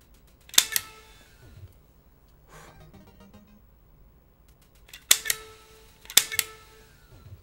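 Zapper light-gun shots in Duck Hunt on the NES ring out as crisp, isolated electronic bangs, one single then a pair near the end, with quiet gaps and a faint game tone between them.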